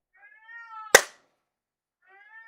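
A house cat meows twice, a drawn-out tonal cry cut by a sharp loud click or thump, then a quieter second meow after a pause.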